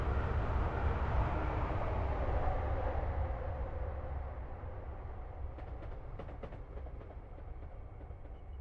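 A high-speed train runs past in Train Simulator 2022, a loud broad rumble and rush that gradually fades, followed by a few faint rhythmic clicks as it recedes.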